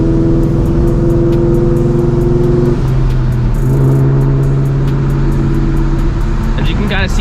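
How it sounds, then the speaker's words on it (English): Edge-generation Ford Mustang GT V8 idling as it warms up, a loud steady low rumble with the idle pitch stepping down partway through, heard up close. "So let the car warm up."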